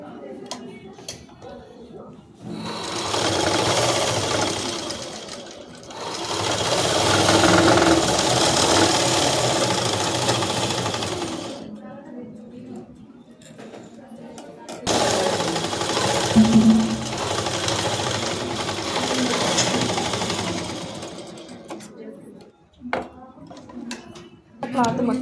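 A sewing machine stitches a boat neck top in two long bursts of rapid, even whirring and ticking, close by. Someone talks in the gaps between runs.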